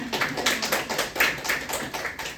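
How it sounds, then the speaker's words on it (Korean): An audience at a school admissions information session claps hard on request, a rapid, fairly light patter of many hands heard at moderate distance and held steadily for a couple of seconds. "박수 한번 세게 쳐보실까요?"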